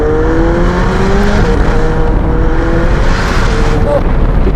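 A McLaren 720S with a Novitec exhaust gives a loud, close throttle drone that rises and falls in short revs, steady throughout with some wind buffeting.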